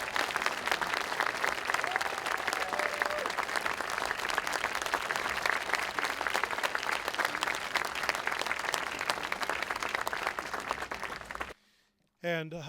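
Concert audience applauding at a Kitsilano Showboat band show, a long, sustained round of dense clapping that cuts off abruptly near the end.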